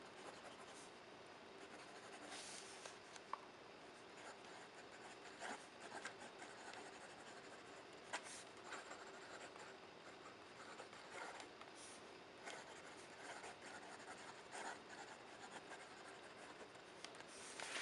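Platinum 3776 Century Nice fountain pen with a medium nib writing on smooth Clairefontaine paper, a steady soft scratching and rubbing of nib on page running throughout under faint room noise.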